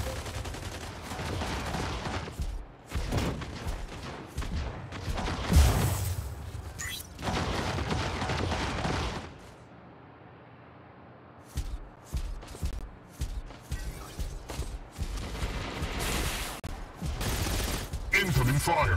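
Mech Arena game gunfire: dense bursts of rapid shots and booms, a brief quiet lull, then more clustered volleys, loud and close.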